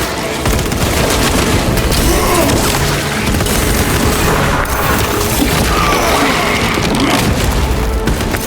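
A Xenos fireball explodes in a Warhammer 40k Space Marine battle against a Tyranid swarm, a loud, dense roaring blast that fills the whole stretch with continuous rumbling boom and crackle.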